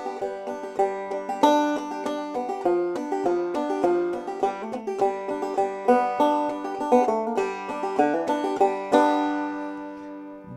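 A banjo picks Little Maggie as single plucked notes, a steady stream of bright, close twangs with ringing overtones and no voices.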